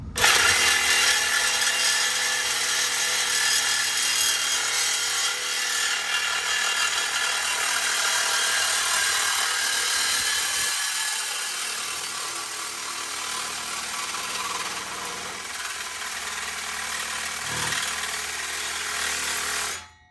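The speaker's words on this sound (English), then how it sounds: "We're gonna go ahead and go under and cut the muffler off" A power tool saws through the exhaust muffler under a Ford Focus RS, a loud, continuous grinding whine that carries on steadily for about twenty seconds with brief dips, no talking.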